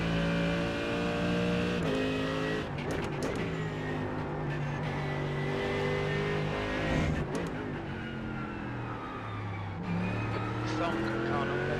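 A Mercedes GT3 race car engine drones continuously at Road Atlanta in a racing video game, pitch rising and falling through shifts and corners, loud and steady with brief bursts of other cars and clatter.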